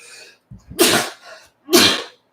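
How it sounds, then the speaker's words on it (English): Two sharp, loud sneezes close to the microphone, each preceded by a quick inhaled breath. "Maybe I'm about to sneeze here."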